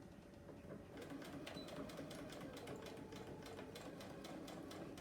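A quiet sewing machine chatters at a steady rapid pace while back stitching a quilt seam, its needle ticking evenly throughout with no pauses.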